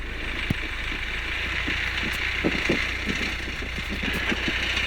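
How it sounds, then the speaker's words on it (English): A Tiger Moth biplane engine idles smoothly at about 800 RPM, a steady low rumble with faint regular knocking pulses, close and continuous. "Throttle to idle. Real smooth idle. Holding at about 800 RPM."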